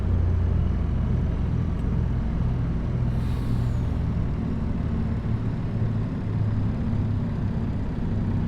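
A truck in a video game drives with a steady low engine drone and road rumble, and a short hiss of air brakes breaks through partway. No one speaks.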